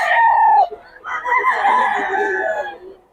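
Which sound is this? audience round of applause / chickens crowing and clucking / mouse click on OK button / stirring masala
chickens crowing and clucking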